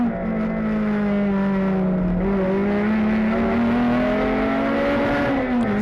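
Onboard touring car at Sepang circuit, its engine holding a loud, steady droning tone that rises and dips slightly through gear and throttle changes, close and continuous with no commentary over it.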